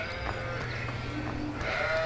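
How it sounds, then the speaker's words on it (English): Lambs in a farming video game bleat softly a few times over a steady low ambient hum, with no talking. "And there's the lambs."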